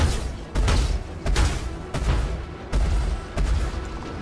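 Ship cannon fire from a damaged spacecraft running on a single working gun in the space combat game Star Citizen. Six heavy booming shots land at a steady, roughly even pace, loud and close, with no talk.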